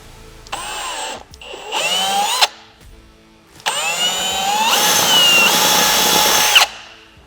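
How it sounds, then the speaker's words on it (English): A power drill bores a mounting hole for an aluminum door on a Polaris RZR Pro R 4 UTV, in several whining bursts that rise in pitch as the motor spins up, separated by short pauses. "Come up here and we'll drill our upper hole."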